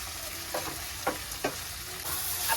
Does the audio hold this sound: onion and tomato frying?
yes